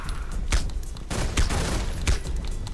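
Gunfire in the video game Velvet Assassin: several sharp, booming shots spaced out over about three seconds, loud and close, with no talking.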